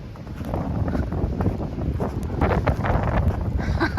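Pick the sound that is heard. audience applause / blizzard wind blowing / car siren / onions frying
blizzard wind blowing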